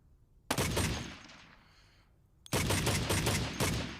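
In the video game Badlanders, a DMR rifle fires two sharp, loud bursts of shots, each followed by a decaying tail, with a quiet gap between them.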